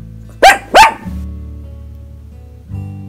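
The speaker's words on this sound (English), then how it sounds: "He's barking." A Pomeranian dog gives two sharp, loud barks in quick succession at close range indoors, followed by a low background hum.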